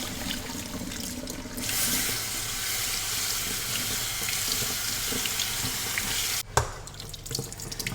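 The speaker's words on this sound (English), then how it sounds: "I'm going to drain my pasta and just give it a rinse under cold water" Cold tap water runs in a steady, loud rush over cooked pasta in a sink as it is rinsed, then cuts off abruptly before a brief clatter and lighter splashing.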